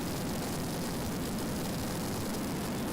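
An EC-725 helicopter flies through haze during an elite troop rappelling drill, its engine and rotor giving a steady, loud, broadband roar that fills the whole stretch without pause or voices.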